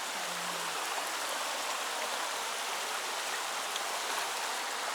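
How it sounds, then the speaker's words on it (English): A river flowing outdoors on a motorcycle trail ride makes a steady, full rushing wash of water, continuous and fairly close, with no talking. "Beautiful river."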